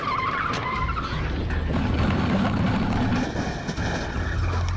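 Heavy SWAT vehicle ploughing through a line of parked cars during a film stunt, a loud continuous roar of engine and grinding, scraping impacts, with tire noise and clatter layered throughout at close range.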